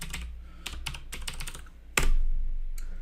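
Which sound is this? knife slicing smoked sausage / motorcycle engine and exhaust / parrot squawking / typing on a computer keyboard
typing on a computer keyboard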